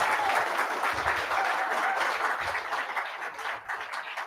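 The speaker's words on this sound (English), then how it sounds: "let's give them a big round of applause" Audience applause at a DroidCon 2025 conference talk: a dense patter of many hands clapping together, loud at first and thinning slightly toward the end.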